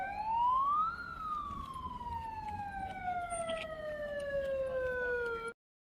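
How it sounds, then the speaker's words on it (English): A police car siren wails close by, rising quickly and then gliding slowly downward in one long sweep before cutting off abruptly, with faint street noise beneath. "this cop decides to interrupt her protest by running his sirens"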